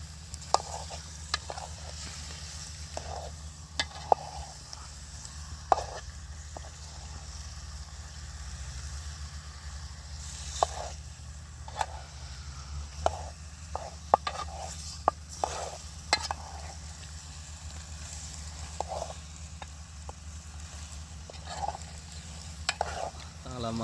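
Fresh fish being turned in masala in a pan, repeated soft scraping and tapping strokes in an irregular rhythm over a low steady hum, close but quiet, with no talk.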